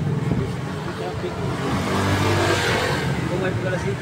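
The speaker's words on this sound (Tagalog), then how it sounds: "Traffic." Road traffic with cars passing by, a steady wash of engine and tyre noise that swells slightly midway, with faint voices in the background.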